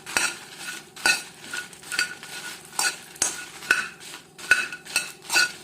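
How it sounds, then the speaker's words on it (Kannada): Red chillies and garlic fried in oil in a pan, with a soft continuous sizzle under a steady rhythm of sharp metallic spoon taps and scrapes against the pan, about one a second. "ಇವಾಗ ಅದಕ್ಕೆ ನಾನು ಬೆಳ್ಳುಳ್ಳಿ ಹೆಸಳನ್ನು ಕೂಡ ಹಾಕಿ ಮೆಣಸಿನೊಟ್ಟಿಗೆ ಫ್ರೈ ಮಾಡ್ಕೊಳ್ತಾ ಇದ್ದೇನೆ"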